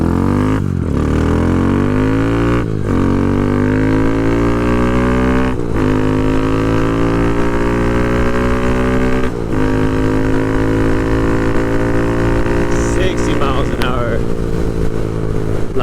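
A motorcycle fitted with a DHM 149cc big bore kit riding on the street, its engine loud and close, pulling up through several gears with rising tones and short dips at each shift.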